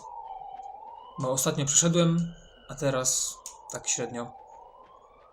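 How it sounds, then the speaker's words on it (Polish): An ambulance siren passes outside a window, its wailing tone sweeping down and back up steadily at moderate distance beneath someone talking in Polish. "Karetka jedzie."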